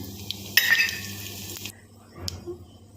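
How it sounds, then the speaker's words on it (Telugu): Spices hit hot oil with a sudden loud sizzle that crackles for about a second, then drops off to a quiet hum with a faint clink. "ఆయిల్ అయితే పెట్టాను పోపు వేసుకుంటున్నాను"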